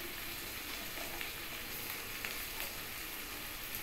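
Whole spices for pulao sizzle and fry steadily in hot oil in a pan, a close, even crackle with faint stirring scrapes and no voices.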